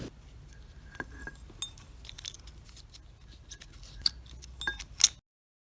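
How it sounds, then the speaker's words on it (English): The bottom piece of a metal lamp socket is unscrewed by hand, close up. Sparse small scrapes, light metallic ticks and clinks sound over a faint background, with a sharper clink just before the sound stops. "You just need to unscrew it by turning it counterclockwise"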